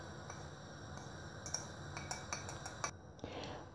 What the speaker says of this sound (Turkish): 2 yumurta sarısının üzerine yarım limon suyunu ilave ediyorum. Ve bir çatal yardımıyla çırpıyorum.